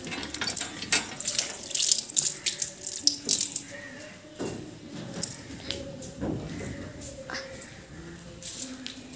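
Water runs from a tap into a sink as hands are washed, a steady close splashing flow with small clinks and rattles, while people talk nearby in Hindi on a family farm.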